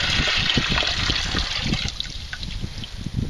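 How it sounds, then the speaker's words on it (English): Maple sap trickles and drips steadily nearby, a soft continuous dribbling with small splashes, fairly quiet and without voices. "It's dripping pretty good."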